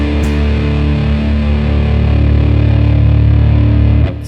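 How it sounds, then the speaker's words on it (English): Germanium OCD clone overdrive pedal with distortion maxed on the low pass setting, a thick, dark, sustained wall of distorted electric guitar ringing loudly and steadily for about four seconds before a sudden cut. "And then all the way up on the distortion on the low pass setting."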